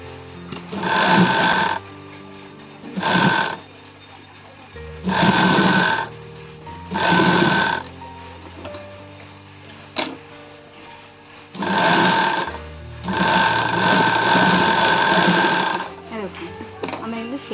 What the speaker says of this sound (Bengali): সেলাইটা তেরো ইঞ্চি নামিয়েছিলাম তার একটু পরে এবার এই সেলাইটা স্টপ করেছি